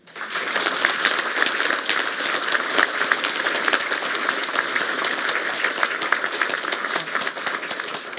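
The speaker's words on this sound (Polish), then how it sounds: "I brawa." Sustained, dense applause fills a hall at the opening ceremony of the 2024–2025 academic year at Koszalin University of Technology, steady and loud from start to finish with no pause.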